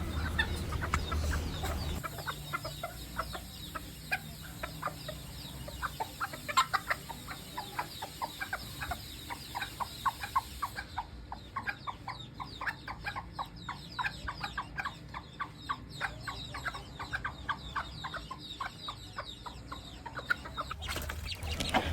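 A serama hen clucking steadily as she calls for her chicks, a long run of close, rapid, repeated clucks with occasional louder notes, alone with no talk.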